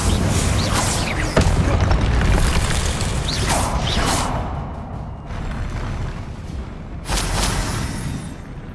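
Confringo spell effects in Hogwarts Legacy, a run of heavy magical booms and whooshing blasts with mechanical crackle, loud and close, tailing off between bursts, with a final sharp blast near the end.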